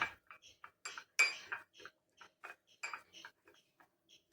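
A spoon mixing a yogurt face scrub in a bowl, a quick run of light clinks and scrapes against the dish in uneven rhythm, close and clear with no voices.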